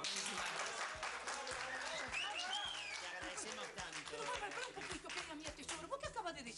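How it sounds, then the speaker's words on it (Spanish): Studio audience applause on an Argentine comedy show, with chuckles and laughter mixed in and a voice speaking over the clapping throughout. "Fuertes y aplausos."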